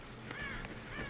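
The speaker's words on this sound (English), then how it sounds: "I'm just fucking irritating all the birds" Crows caw in the Dead by Daylight video game, two or three harsh calls in quick succession, fairly close and clear with no talking.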